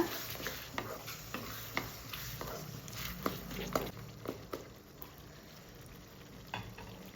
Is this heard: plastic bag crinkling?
no